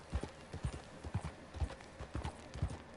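A horse's hooves clip-clop at a steady walking rhythm in the video game Red Dead Redemption, evenly spaced hollow knocks heard close and fairly quiet, with no talk.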